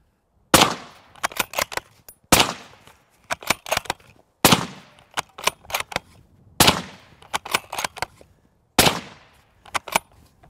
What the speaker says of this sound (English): Pretty even tone through all five shots. Not really a first round pop or anything like that.